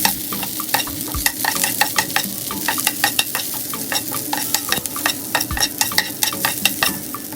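Tamarind being stirred into a frying chammanthi chutney mixture in a pan, with steady sizzling under repeated sharp scrapes and taps of a spoon against the pan, close and fairly loud, with no talking.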